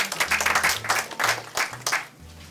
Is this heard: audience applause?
yes